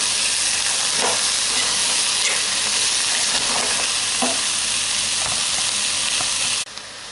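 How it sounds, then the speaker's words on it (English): Vegetables cook down in a soup pot with a steady, loud sizzling hiss, and a few soft scrapes and clinks from stirring come through before the sound drops off near the end. "the vegetables have started cooking down a bit now"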